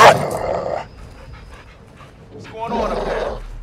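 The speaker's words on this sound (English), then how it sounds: "It's the dog from the bedroom." Dog in the video game Call of Duty Modern Warfare 2, panting and whimpering up close in two short bouts separated by a quieter gap, with a voice speaking over it.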